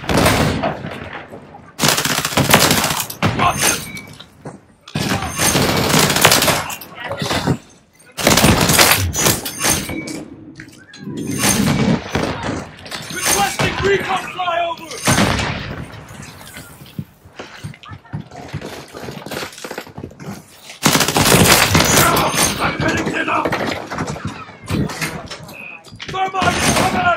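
Rapid bursts of Rival-9 gunfire in a video game crackle and rattle in dense, loud volleys, interrupted by short pauses, with voices talking over the shooting.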